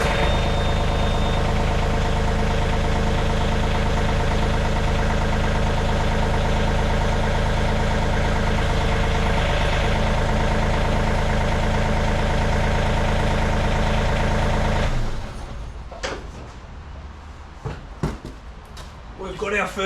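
A Yanmar excavator's engine runs with a loud, steady diesel drone for about fifteen seconds, then drops to a quieter idle punctuated by clanks and knocks.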